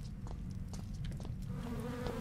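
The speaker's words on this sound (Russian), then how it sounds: "Кажется, мух слышу." Flies buzzing in the horror video game Hellcoming, a low steady drone with faint flickering insect whine on top, continuous and fairly quiet throughout.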